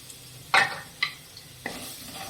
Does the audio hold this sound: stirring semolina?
yes